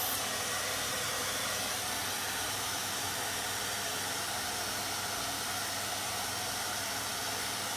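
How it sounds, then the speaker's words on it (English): A blow dryer runs continuously at close range, drying red paint on a painted truck yard art decoration, a steady loud whooshing hiss with no breaks. "I apologize for the blow dryer."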